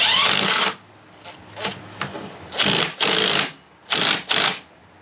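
A pneumatic impact wrench tightens a bolt on a 1972 Harley-Davidson XLCH Ironhead Sportster during a generator install: one long rattling burst, then several short hammering bursts separated by pauses, loud and close.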